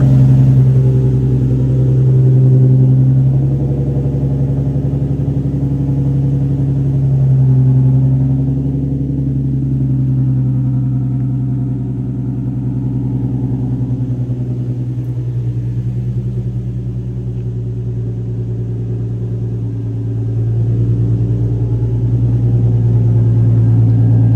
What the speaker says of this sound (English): Let her warm up a little bit. You guys can hear it on idle real quick.